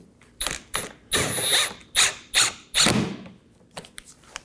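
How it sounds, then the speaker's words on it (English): A hand ratchet snugs down 7mm bolts at the mud flap and bumper corner of a 2018-2024 Chevrolet Equinox, giving several close bursts of rapid clicking separated by short pauses, then a few lighter taps. "we're going to move along to the mud flap and corner of the bumper to install our 7mm bolts"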